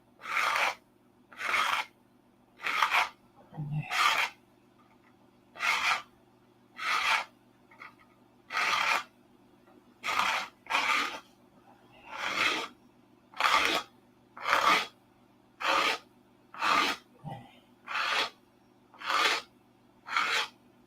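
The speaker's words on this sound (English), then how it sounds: "I get out my balsa sanding block." Balsa sanding block worked by hand on a 1/2A Cobra model, giving about seventeen evenly spaced rasping strokes, close and steady, with a low hum underneath.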